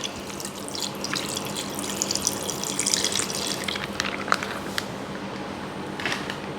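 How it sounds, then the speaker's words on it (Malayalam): Milk is poured into a blender jar for tender coconut sharbat, a steady liquid splash and trickle with small clinks, close and continuous. "കുറച്ച് പാലും കൂടി ഒഴിക്കാം"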